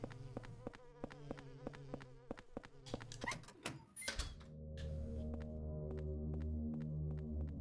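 A bee in the video game Silent Hill 4 The Room buzzes in a rapid, pulsing drone that stutters and breaks up, then settles into a steadier, fuller hum with sharp clicks.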